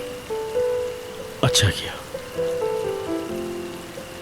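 Rain falls steadily outside at night after a car has been switched off, in a Hindi TV drama. A soft, even patter runs beneath background music, and someone speaks briefly.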